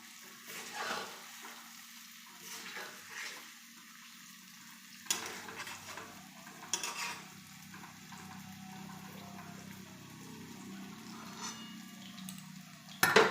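Small puffed snacks fry in hot oil in a pan, giving a soft, steady, fairly faint sizzle with a few gentle stirring knocks scattered through it.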